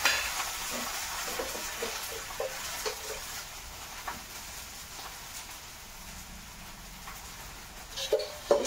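Food roasting on a tava griddle in a home kitchen, a low steady sizzle with faint scrapes and a few soft utensil clicks, louder clatter near the end.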